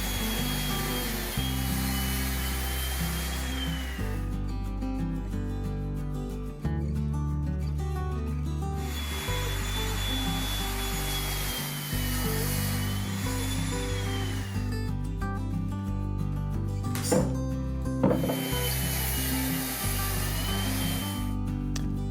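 Power sawing through 3/4-inch plywood sheets for shop-built bookcase shelves, a loud continuous blade whine with motor drone running in long passes, broken by brief pauses and shifts in pitch as each cut starts and ends.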